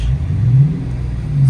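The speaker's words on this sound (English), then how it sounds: "It's just spinning tire right now." A Dodge Charger's engine revs hard in a massive winter storm while its tire spins in snow, a loud low rumbling drone that swells and dips steadily, close by with no one speaking.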